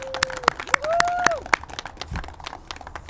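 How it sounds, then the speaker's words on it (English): Scattered audience clapping at a glass recycling kick-off and ribbon cutting, sharp separate claps in an uneven rhythm rather than full applause, with a brief whistle-like tone partway through. "Come on, that's where you clap."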